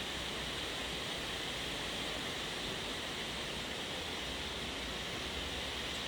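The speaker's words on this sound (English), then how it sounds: "Hear the rain on top of the green roof." Heavy rain pours steadily onto a green roof, a constant, even hiss of countless drops with no breaks or other sounds.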